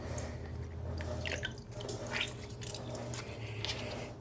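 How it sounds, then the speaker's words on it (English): Liquid squeezed by hand from soaked ingredients in a home kitchen, a faint wet squish with soft dripping and trickling, quiet and close. "give them a little bit of a squeeze to get some of that liquid away"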